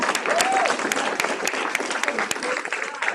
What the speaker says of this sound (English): Peter, give them a round of applause.